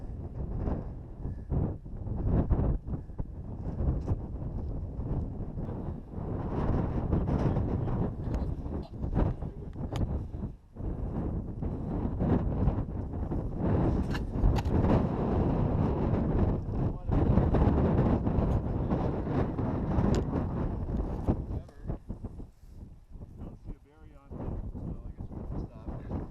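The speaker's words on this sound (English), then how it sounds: "the wind is coming right up the mountainside" Strong gusting wind blowing up the mountainside on Mt. Mansfield buffets the microphone in a continuous roar, with a voice speaking briefly underneath.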